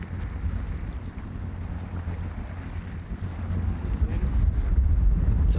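Gusty wind roars steadily across an open golf course at a professional tournament in Abu Dhabi, broad buffeting noise that swells louder toward the end, with no talk.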